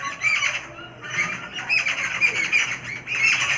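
An Indian ringneck parrot squawks repeatedly in loud, harsh bursts, close by, with short gaps between calls and no one talking.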